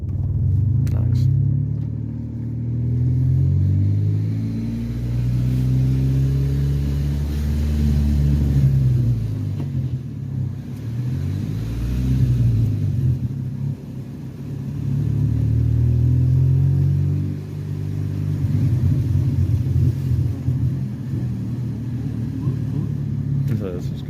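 Driven in second gear by a learner, a manual car's engine drones and revs in swelling waves, pitch climbing and sagging through repeated accelerations, close and continuous.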